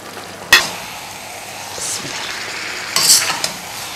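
Boiled cauliflower being stirred into masala in a karahi, with short scraping stirs near 0.5 and 3 seconds over a soft, steady sizzle; no speech.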